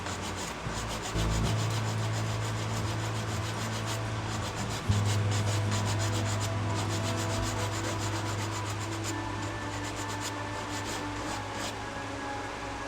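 Scuffing the surface of a plastic nail tip fixed to a practice trainer hand, a steady dry rubbing and filing rasp that carries on without a break at close range, with a brief knock partway through.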